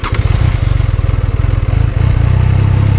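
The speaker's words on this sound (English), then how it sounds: "Yeah, it's a small engine." A Triumph 660 Daytona motorcycle engine runs close by with a rapid, throbbing pulse, steady and loud, briefly dipping then picking up again.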